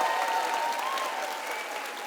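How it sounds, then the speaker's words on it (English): Student conference audience breaking into a sustained round of applause, dense and loud at first then easing slightly, with faint tonal hum beneath the clapping. "we're going to give a round of applause"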